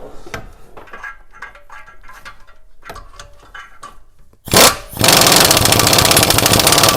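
Exhaust manifold bolts on a GM truck are tightened, first with a few seconds of scattered light ratchet clicks and metallic ticks, then a sudden loud, steady mechanical whirring that runs to the end.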